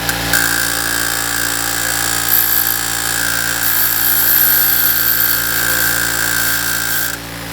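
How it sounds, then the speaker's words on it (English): Power grinder running steadily on the edges of homemade steel road spikes, a loud continuous whine with a bright high tone, sustained for about seven seconds before cutting off near the end. "Brian is going to go ahead and grind down the edges of these to make these spots a bit more sharp"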